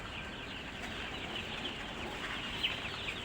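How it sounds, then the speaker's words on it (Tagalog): A dense chorus of chicks peeping inside a house on a farm, continuous high chirping that stays at a steady, moderate level throughout with no talk. "Ito guys yung mga sisiw namin guys."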